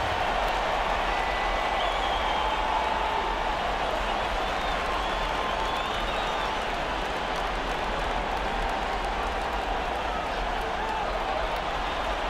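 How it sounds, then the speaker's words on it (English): A Boston home crowd roars through an NBA 2K19 Celtics versus Milwaukee Eastern Conference game, a dense, steady wash of cheering and applause filling the whole stretch without letup. "This Boston crowd ready to roar in this Eastern Conference matchup"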